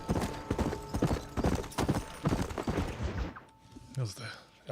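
Horse hooves clip-clop in a steady galloping rhythm while riding in the Red Dead Redemption video game, loud and close, with in-game music and effects underneath before the hoofbeats fade near the end.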